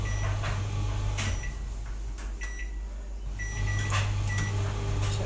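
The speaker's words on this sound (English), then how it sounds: "when you're using the microwave, you've got to be right near the microwave in order to hear what it's doing" A microwave oven running in a home kitchen with crumbed chicken and pasta, a steady low hum with a brief dip partway through, plus faint clicks and small knocks nearby.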